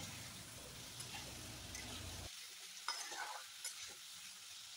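Crispy potatoes with spices fry and get stirred in a pan: a steady close sizzle for about two seconds, then it cuts out, leaving scattered scraping and light clinks of the spoon.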